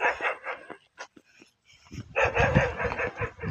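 Dogs bark repeatedly near an island fishing spot, with sharp clustered barks, short pauses, then a louder run of barking at close range.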